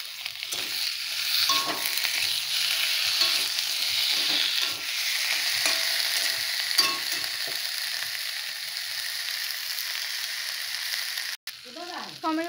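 Chopped onion and tomato frying in a spice masala for fish egg fritter curry, a loud, dense, continuous sizzle close up with occasional stirring clatter, ending in a brief cut and a soft burst of other sound.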